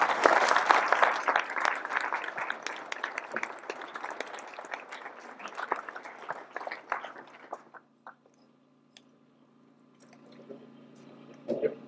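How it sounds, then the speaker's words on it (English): Audience applause at a veterans community project dedication, dense clapping for several seconds that thins into scattered claps and quiet room noise toward the end. "So ladies and gentlemen, if you give me a round of applause for Harold Dominguez"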